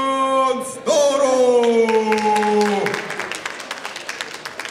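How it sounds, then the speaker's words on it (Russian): An audience applauds as a saberfighting performer is introduced at a studio show. The clapping swells under a loud, sustained tonal voice or announcement sound, then continues alone as scattered, thinning claps. "Аплодисменты, друзья!"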